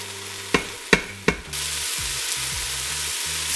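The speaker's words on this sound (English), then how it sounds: "Okay, this has been sauteing for about 10 minutes now." Vegetables sauteing in an Instant Pot, with three sharp scraping stirs of a spoon against the pot early on, then a steady, close sizzle and crackle of frying carrying on alone.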